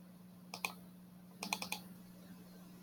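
Someone types on a computer keyboard in a quiet room with a steady hum, with two short bursts of keystrokes, one pair of taps and then a quick run of four or five, fairly faint.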